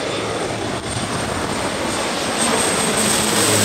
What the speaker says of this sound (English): The first big plane is about to land,